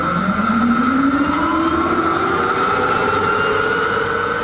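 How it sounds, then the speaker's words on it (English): A GM Firebird gas turbine car engine starting up, with a loud steady whine that climbs gradually in pitch over a rushing roar, heard alone. "Hearing the turbine engine from one of the Firebirds start up is sort of eerie. It has this eerie, ethereal whine."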